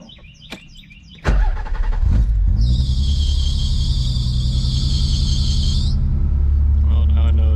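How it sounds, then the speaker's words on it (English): A drift car project's engine cranks and fires after a quiet moment, then settles into a loud, steady idle with a high, sustained belt squeal from the alternator fan belt for several seconds. "About to start the car."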